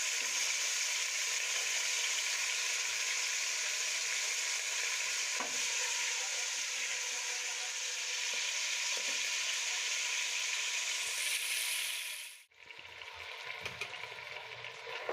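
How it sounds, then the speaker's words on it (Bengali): Chicken pieces sizzle steadily in hot oil for a special chicken roast, a dense, even frying hiss that runs almost the whole time. Near the end it cuts out sharply, then comes back quieter. No one speaks. "মাংসগুলো ভাজা হয়ে গেছে"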